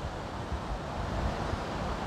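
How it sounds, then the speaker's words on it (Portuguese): Strong wind buffets the microphone outdoors during a DJI Avata drone flight, a steady loud low rumble of gusts that fills the whole stretch with no voices. "está um vento"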